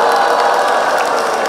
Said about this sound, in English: I want you to support your children with oh's and clap.